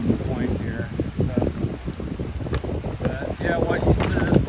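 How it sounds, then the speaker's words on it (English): Gusty wind on a coastline near a point in Barotac Viejo, Iloilo, Philippines, buffeting and rumbling across the microphone, with someone talking over it throughout. "A little more windy down around the point here."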